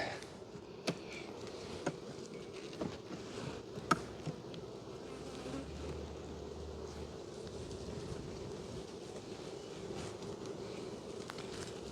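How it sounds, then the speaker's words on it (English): Honey bees swarm over frames from the top box of a hive, a quiet, continuous buzzing hum close by with a few faint clicks and bumps from handling the frames. "So we got bees covering from here to here, and that's the top box."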